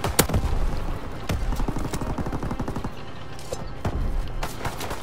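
Sustained gunfire in a World War-style video game battle, with rapid machine-gun bursts and scattered sharp single shots packed densely over a constant loud din, several heavy cracks standing out near the front.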